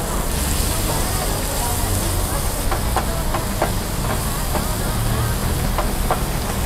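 Curry paste stir-frying in a little oil in a pan, with a steady loud sizzling hiss throughout and light scraping taps from stirring, while someone talks over it.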